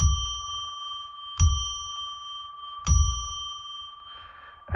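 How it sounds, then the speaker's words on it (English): A bell rung to open a psychic reading, struck three times at a slow, even pace, each ring clear and close with a long sustained shimmering tone. "I'm going to ring a bell now to declare a sacred space"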